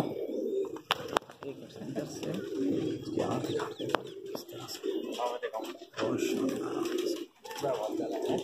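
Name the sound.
high flyer pigeons cooing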